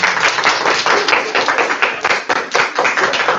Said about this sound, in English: Can we please have a round of applause for all of them?